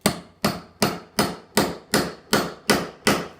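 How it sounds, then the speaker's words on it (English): A hammer taps lightly on a bolt during assembly of a deluxe lounger loveseat, eight crisp, evenly spaced strikes close by, each with a short ringing decay, no voices. "Take the hammer and just tap lightly."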